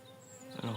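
A honeybee colony buzzes defensively at a hive, a brief steady hum rising in intensity near the end, with no talk.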